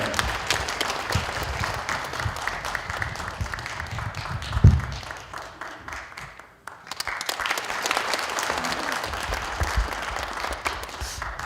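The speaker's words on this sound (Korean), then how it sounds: "여러분 큰 박수 부탁드리겠습니다" Audience applause at a lawmaker's constituency report meeting, greeting a bestselling novelist invited to give a congratulatory speech: a steady wash of dense clapping that dips briefly midway, then swells again and carries on to the end.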